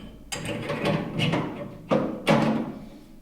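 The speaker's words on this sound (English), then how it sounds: "simply put it in the front, pull it forward, and allow it to snap into place" A conveyor guide for a commercial dish machine is pushed in at the front, pulled forward and snapped into place, giving a few sharp plastic clicks and thuds close up with rattling between them.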